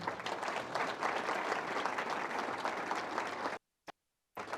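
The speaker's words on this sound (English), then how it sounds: "And also give my fellow council members a round of applause too" Steady applause from a city audience for staff and council members, dense and fairly distant, running about three and a half seconds before cutting to near silence with a brief burst and a return at the end.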